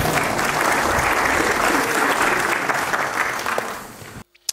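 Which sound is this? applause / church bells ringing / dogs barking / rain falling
applause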